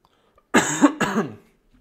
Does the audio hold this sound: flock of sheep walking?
no